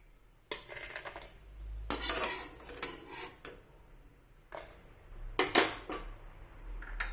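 Roasted chillies tipped from a pan into a jar, several clanks and scrapes of metal against metal with quiet stretches between them, close by and without talk.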